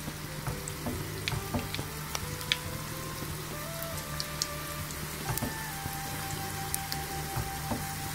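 Chicken pieces deep frying in hot oil over a medium flame for restaurant-style Chicken Manchurian, a continuous crackling sizzle with scattered sharp pops and spits, close and steady throughout.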